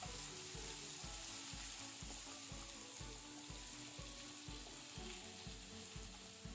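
Banana stem palya sizzles steadily in a pan while being stirred, with regular scraping strokes in an even rhythm under continuous frying hiss; no voices.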